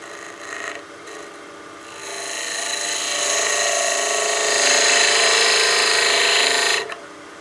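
A skew chisel shears wood on a lathe while turning a small bat house ornament, giving a steady, close, rasping hiss that builds and holds for several seconds before cutting off abruptly, with no talking.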